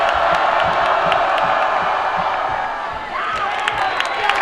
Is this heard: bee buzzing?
no